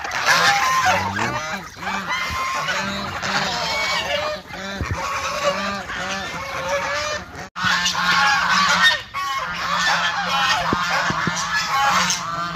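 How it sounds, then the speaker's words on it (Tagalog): A flock of geese honks loudly and repeatedly, overlapping calls close by with brief pauses between bursts. "Ayan o yung mga gansa."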